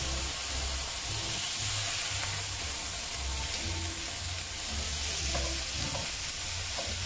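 Marinated pork steak frying in a pan, a steady dense sizzle that stays loud and constant throughout with no voices.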